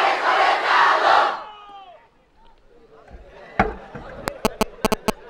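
A large crowd at an outdoor Islamic religious gathering shouts a slogan in unison, loud and massed for about a second and a half, then fades. A quieter stretch follows, ending in sharp rhythmic clicks and knocks.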